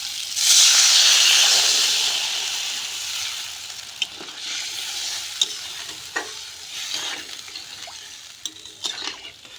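Water poured into a hot pan of sizzling rohu fish curry sets off a loud burst of hissing steam that slowly dies down, followed by quieter sizzling and the scrape and clink of stirring.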